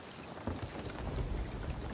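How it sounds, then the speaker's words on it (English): A thunderstorm at sea in the pirate video game Sea of Thieves: steady heavy rain with a low rolling rumble of thunder, dense and continuous throughout. "It's unfortunate that we're still in the storm"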